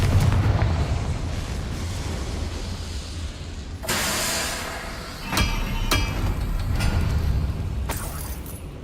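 Confringo spell blasts in a Harry Potter video game burst out as several loud, booming explosions with sharp cracking impacts over a rumbling game background.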